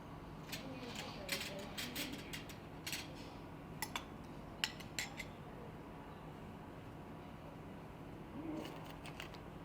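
Whisk clicking against a bowl while egg yolk is beaten for sabayon in a cooking class, quiet irregular metallic ticks and clinks scattered through the clip, under a low room murmur and background talk.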